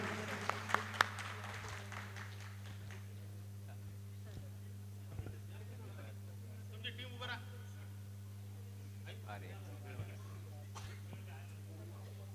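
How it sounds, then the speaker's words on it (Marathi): An audience applauds at a stage event honouring a performing team, a faint, steady patter of clapping with a few sharper claps, set against a constant low electrical hum and some voices. "जरा जोरदार टाळ्या या सगळ्यांसाठी आपण वाजवूयात"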